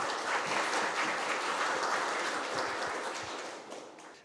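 Sustained audience applause at a Korean academic society's founding ceremony, dense and steady for the whole stretch, then tapering off gradually near the end.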